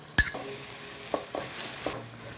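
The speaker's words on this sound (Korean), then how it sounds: "편마늘이 노릇노릇해질 때까지 하시면 훨씬 맛있어요" Sliced garlic fries in a pan for a cherry tomato and spinach salad, giving a soft, steady sizzle broken by a sharp opening clank and a few scattered scraping stirs of a utensil against the pan.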